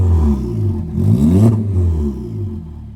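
Porsche Macan engine with its muffler removed, heard from inside the cabin as a loud, deep, steady drone that swells into a rev near the middle and then settles.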